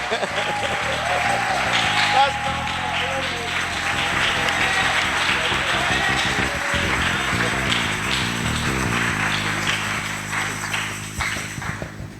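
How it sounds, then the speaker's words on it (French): A church congregation applauds in steady, rhythmic clapping that carries on throughout, with voices calling out over it and background music. "Acclamons."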